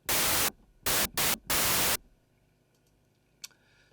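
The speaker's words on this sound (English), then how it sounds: "And then a white noise." A synthesizer oscillator switched to white noise, from the Arminator synth, sounds as four loud bursts of steady hiss: one long, two short, then another long, followed by near silence with a faint click.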